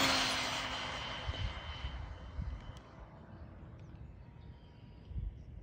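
Rlaarlo X12S RC car with a 29-tooth pinion at full throttle on a speed run, a high motor whine that fades into the distance, followed by faint rumble.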